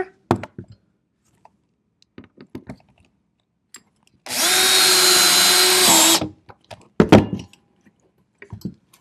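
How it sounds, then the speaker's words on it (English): Power drill driving a bolt through a recliner into wood, one sustained loud whirring burst of about two seconds, framed by scattered clicks and handling knocks before and after. "I have my drill, which I had before."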